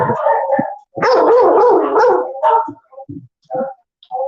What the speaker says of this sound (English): Well, don't bark.